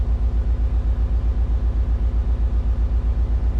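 A farm truck engine idles steadily, a loud, close, even low rumble pulsing in a regular rhythm with no other sounds.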